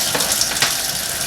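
Tap water running into a kitchen sink while dandelion roots are rinsed, a steady close splashing hiss with a couple of brief louder surges, no voices.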